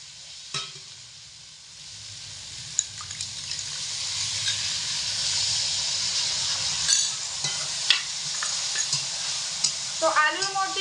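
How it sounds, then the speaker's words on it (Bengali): Warm water is poured into a sizzling potato curry in a pan and stirred, giving a steady hiss and bubbling, with utensil clinks and a brief clatter near the end. "এবার আমি এর মধ্যে মশলার বাটিটা ধুয়ে হালকা উষ্ণ গরম জল আলুর মধ্যে ঢেলে দেবো"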